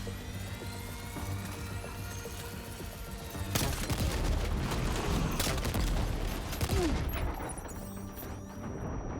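Heavy gunfire in the video game Death Stranding 2, sustained loud automatic bursts with rumbling explosions and an aircraft-like drone, dense and continuous throughout.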